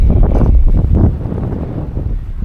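Wind gusts across a Lake Huron harbor on a rainy day in Rogers City, Michigan, giving a steady, loud, low buffeting rumble against the microphone that eases slightly midway, with no voices.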